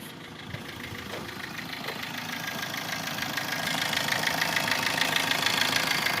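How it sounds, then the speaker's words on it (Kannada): Diesel engine of a 2014 Maruti Swift Dzire VDI running at idle, a steady close rumble that grows slightly louder and fuller over several seconds, with no talk. "ಗಾಡಿ ಸ್ಟಾರ್ಟ್ ಮಾಡ್ತೀವಿ."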